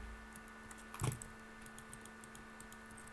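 Soft clicks of typing on a new computer keyboard during a Minecraft Bedwars session, faint scattered keystrokes with one louder tap, alone and with no talk.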